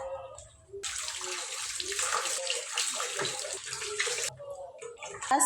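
Peeled raw green papaya is rinsed under a running tap. A steady, fairly loud gush of water starts abruptly, pours for about three and a half seconds, then cuts off, with quieter handling sounds before and after.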